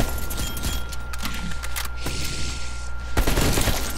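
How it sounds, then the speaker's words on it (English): AK rifle firing in Call of Duty Zombies, a dense run of rapid gunshots that goes on through the clip, growing louder and heavier near the end, with no talking. "I've never used the AK in zombies, so it should be fun."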